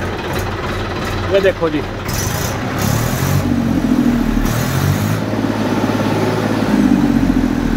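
A nearly new John Deere 4x4 tractor with power steering and low hours starts up and idles with a steady low engine rumble, while someone talks over it throughout.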